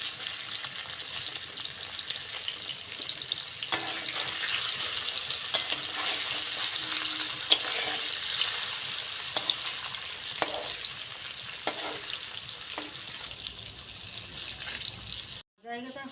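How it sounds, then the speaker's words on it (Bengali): Paneer frying in a pan, a steady bright sizzle with soft clicks and scrapes as the pieces are flipped, fairly quiet and continuous with no voice heard. "এবার আমি পনিরগুলো উল্টিয়ে দেবো"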